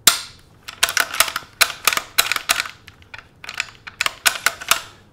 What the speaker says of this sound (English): Let's check to make sure it's unloaded, of course, before I pull the trigger.